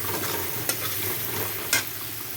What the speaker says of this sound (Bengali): এটা দিয়ে এটাকে একদম লাল করে ভেজে নিতে হবে পেঁয়াজ আর রসুনটাকে